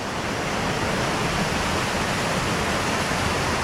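A waterfall roars as a constant, dense wash of falling water in a Jamaican village, loud and unbroken from start to finish with no voices.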